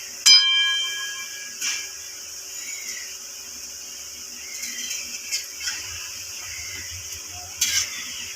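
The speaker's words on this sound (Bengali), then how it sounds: "বড়িগুলো লাল লাল করে ভেজে নেব" Lentil dumplings (bori) fry in a pan while being gently stirred, giving a faint, steady sizzle with a few soft clinks and scrapes, including a bright ringing tap at the start.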